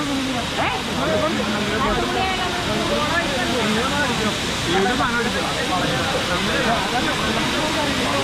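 Waterfall at Anayadikuthu pours in a steady, loud broadband rush that fills the whole stretch, with voices talking over the constant roar.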